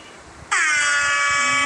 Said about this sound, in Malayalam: ഹെയർ ഹോൺ, ഈ പ്രാങ്ക് ആപ്പാണ്